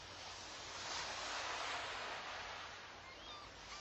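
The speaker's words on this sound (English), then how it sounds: "those waves on the beach can comfort you" Ocean waves washing onto a beach, a soft continuous broadband rush that swells and eases gently, faint and distant, heard alone without voices.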